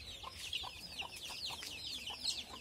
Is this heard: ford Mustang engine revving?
no